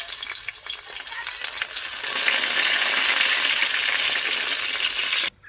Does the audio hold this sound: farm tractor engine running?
no